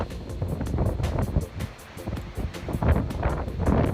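Strong wind roaring across a mountain saddle on a hike, a loud continuous buffeting rush that gusts and swells throughout.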